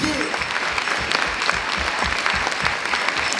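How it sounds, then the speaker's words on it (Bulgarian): Loud, dense applause from a large crowd at a Christmas celebration, sustained and steady throughout with no pause. "Вашите силни аплодисменти за Николай и Валентин!"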